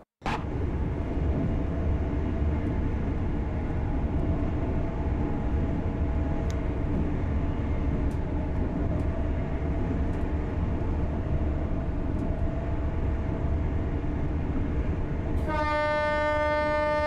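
A Class 801 LNER train in the video game Train Sim World rumbles past a level crossing continuously at steady volume, ending with a multi-tone horn blast near the end.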